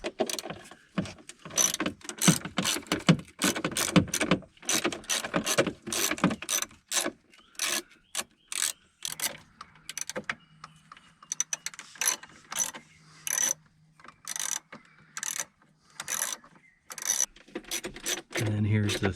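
Screws being worked out of the instrument cluster on a Chevy S10 with a bouncing fuel gauge, close mechanical clicks and ratcheting turns in a steady run, with talk over parts of it.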